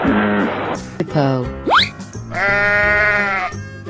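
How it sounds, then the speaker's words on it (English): A cartoon sheep bleats in a long, wavering, nasal cry near the end. Before it come springy boings and comic effects over a light musical bed. "Sheep."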